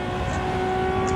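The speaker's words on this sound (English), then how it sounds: "It sounds like an F1 car." Ferrari 335S Scaglietti Le Mans race car simulated in Assetto Corsa on the Imola circuit, its engine holding a steady, loud high-pitched drone with a strong whining tone, continuous and close throughout.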